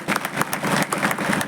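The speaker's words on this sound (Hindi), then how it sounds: "तालियों से स्वागत कर दीजिए।" Audience at an outdoor Bhagwat Katha gathering in a cow-shelter courtyard applauding to welcome a guru onto the stage, dense rhythmic clapping from many hands, steady and fairly loud.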